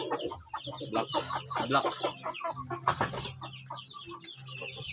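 Four-month-old Shamo Aseel chickens cluck in short, repeated bursts close by, with a person talking over and between the calls.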